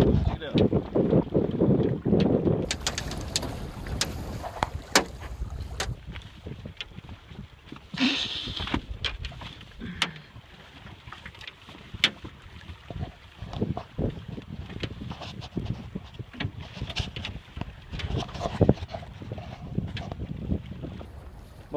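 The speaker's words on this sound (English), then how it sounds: "Fucking motor broke. Now we're fucking sailing." A sailboat moves under wind power alone after its motor broke, with wind buffeting the microphone and water rushing along the hull, loud at first and then quieter, with people talking at times.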